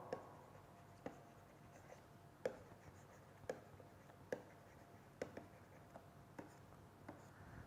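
A pen writes short symmetry notes on paper, producing faint, quiet scratches broken by light taps and clicks at roughly one-second intervals, heard alone in a quiet room.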